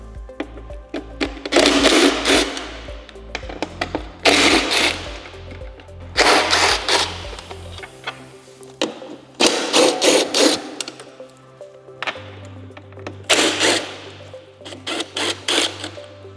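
A power driver backs out T25 bolts from the pod on a 2024-2026 Harley-Davidson Street Glide Ultra in loud, close bursts of whirring, several runs of a second or two each separated by short pauses, with no talking.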